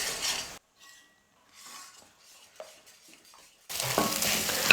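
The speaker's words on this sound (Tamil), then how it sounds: "முட்டையை நல்லா வேக வச்சு எடுத்துக்கலாம்" Egg frying and being stirred in a pan for kothu parotta gives short, faint bursts of sizzling and scraping that come and go, separated by near-silent gaps with a louder rush at the start and end.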